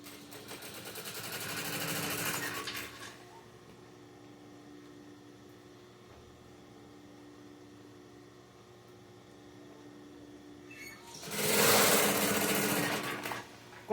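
A sewing machine stitches a toiletry bag through lining and main fabric, with two loud bursts of rapid stitching separated by a long quiet pause.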